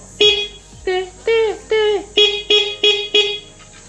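A QJMoto SRK 600RC motorcycle horn honks in a series of short blasts, two single toots, a pair of longer ones, then four quick beeps, loud and close.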